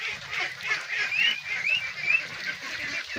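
Ducks calling while eating a feed of banana stalk and rice bran, a close cluster of nasal honks and quacks overlapping continuously.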